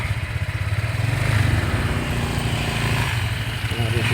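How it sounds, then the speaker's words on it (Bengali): A motorcycle rides into parking at a tiger park in Thailand, its engine a close, steady, pulsing rumble throughout with a slight rise in the middle. "আমরা বাইক পার্কিং করবো"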